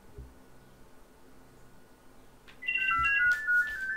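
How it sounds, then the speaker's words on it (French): A telephone ringtone rings inside The Crew 2 racing game, a bright electronic melody starting partway through and playing clearly over low game ambience. "Oh, le téléphone qui sonne."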